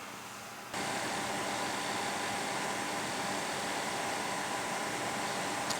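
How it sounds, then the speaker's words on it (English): A four-drive RAID 0 array of hard drives runs during a Windows 10 install, heard as a steady, broadband whirring hiss that starts after a brief quieter moment and holds level throughout, with no talking. "listen to this RAID grind away"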